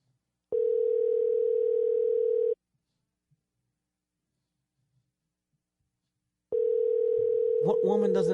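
A phone call rings out unanswered: two long steady ringback tones separated by a silent gap, the second tone overlapped at the end by a voice starting to speak.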